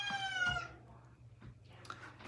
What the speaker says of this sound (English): Cat's being vocal.